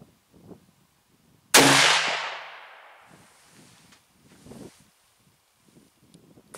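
A single sharp shot from an Arkon Alfa HT50 hunting rifle cracks loudly, its echo trailing off over a few seconds, with faint rustling and quiet movement before and after.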